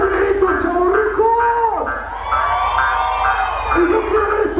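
Party crowd at a nightclub anniversary event shouting, whooping and cheering loudly and continuously, with voices rising and falling close by.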